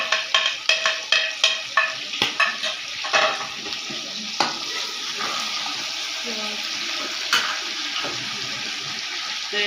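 Green chillies and large red tomatoes fry for a Punjabi-style chicken liver dish, a steady sizzle broken by a quick series of sharp stirring knocks at the start and scattered clanks later.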